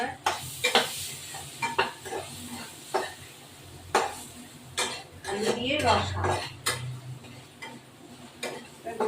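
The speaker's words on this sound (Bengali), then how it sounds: "হলুদ দেব নাড়াচাড়া করবো" A spoon stirs turmeric into a pan of rohu fish curry with potatoes, giving repeated scraping and clinking knocks against the metal over a soft sizzle of oil, close and steady throughout.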